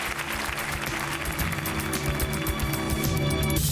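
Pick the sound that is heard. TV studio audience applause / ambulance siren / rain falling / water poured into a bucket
TV studio audience applause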